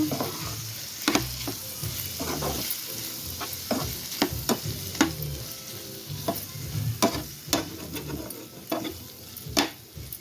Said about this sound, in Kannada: ಇವಾಗ ಚೆನ್ನಾಗಿ ಫ್ರೈ ಮಾಡ್ಕೋಬೇಕು.